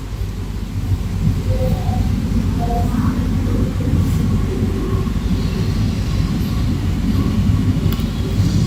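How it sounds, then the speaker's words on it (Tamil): An AC suburban train rumbles steadily into Tambaram railway station in Chennai, a low continuous roar and rattle throughout with faint higher squeals near the start. "Tambaram railway ஸ்டேஷனுக்குள்ள enter ஆயாச்சுங்க."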